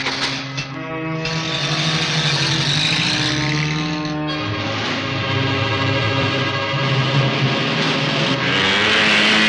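Engine noise from a motorcycle chase in a Hindi action film, a loud, steady, buzzing drone with shifting pitch that builds gradually over about nine seconds.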